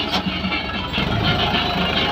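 A tractor engine running while ploughing a field in Gujarat, a brief, continuous mid-pitched rumble heard up close without speech.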